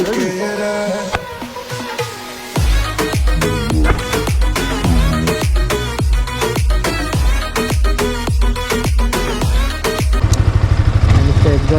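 A new 2024 Yamaha R15M motorcycle's exhaust barks through a burst of loud, sharp throttle blips, then settles into a fast, throbbing idle close by.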